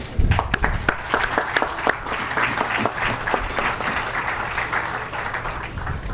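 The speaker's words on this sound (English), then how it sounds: "Please applaud Assistant Superintendent Seeley." Audience applause at an awards ceremony for a security services company, a dense wash of many hands clapping fairly close, with some sharper individual claps standing out and a faint voice underneath.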